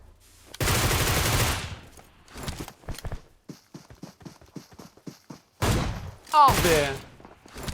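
Gunfire in the PUBG Mobile video game: a sustained loud burst of shots, then a string of single spaced shots, then another heavy burst, with a voice speaking briefly near the end.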